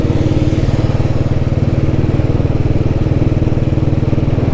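A vintage Royal Enfield Bullet motorcycle engine runs just after starting, a loud, close, steady thumping idle with an even rapid beat throughout.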